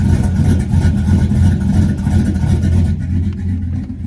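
A cammed truck engine idles in gear on a stock torque converter at around 650 RPM, giving a loud, close, lumpy rumble with an uneven loping pulse and no talk over it.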